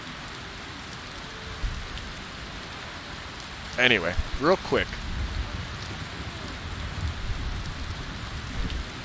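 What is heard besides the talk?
rain in a video game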